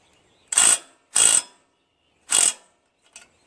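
Three short ratchet bursts, then a faint fourth, with pauses between, as muffler bolts are tightened on a Murray 14.5 hp 42-inch widebody lawn tractor; close, clear clicking with no talk.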